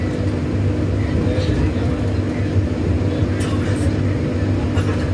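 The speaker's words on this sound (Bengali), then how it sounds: "ট্রেন ছেড়ে দিল।" A passenger train pulls out of Parasnath railway station in a hilly area, its steady, heavy rumble continuous and close, with faint squeaks above it.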